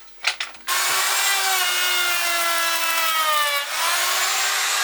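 A router takes a deeper cut in soft wood. After a few clicks, it settles into a loud, steady high-pitched whine that holds for several seconds, with a slight dip near the end.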